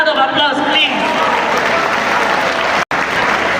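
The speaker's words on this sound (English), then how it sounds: "Raise a round of applause, please." Sustained applause from a large audience, loud and steady throughout, with a brief gap near the end.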